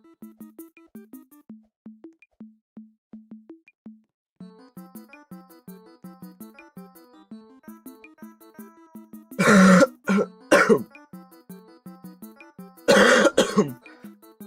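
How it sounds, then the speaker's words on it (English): A person coughs while eating, two loud bursts of several harsh coughs each, close up over soft repeating background game music. "I'm coughing because I'm eating and eating and low-key I'm coughing now."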